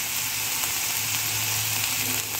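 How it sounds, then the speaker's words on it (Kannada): Capsicum frying in hot oil in a pan, a steady close sizzle that fills the whole stretch with no pauses and no voices. "ಕ್ಯಾಪ್ಸಿಕಮ್ ಎಷ್ಟು ಚೆನ್ನಾಗಿ ಎಣ್ಣೆಯಲ್ಲಿ ಫ್ರೈ ಆಗಿದೆ"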